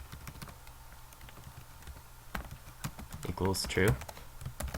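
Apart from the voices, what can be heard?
computer keyboard typing while writing code in GameMaker Studio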